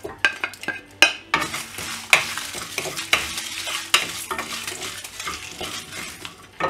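Dried red chillies, fennel seeds and cumin dry roast in a pan as a spoon stirs and scrapes them, giving a light crackle and repeated sharp metallic taps, close up with no voices.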